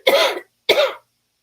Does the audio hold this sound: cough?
yes